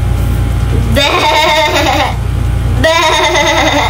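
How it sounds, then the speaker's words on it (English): Two wavering bleats, loud and close, each lasting about a second and a half over a constant low hum. "A goat."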